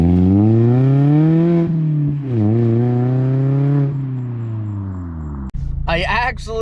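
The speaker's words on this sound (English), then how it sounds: "And number 9 is exhaust." A Mazda Miata ND's exhaust revs up and holds a steady drone for several seconds, dips and climbs again, then cuts off sharply, with a brief raspy burst near the end.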